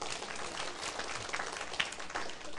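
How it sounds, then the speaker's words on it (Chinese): An audience at a lecture hall claps together in a brief, faint burst of scattered applause, heard from a distance for a couple of seconds. "甲拍手一下看"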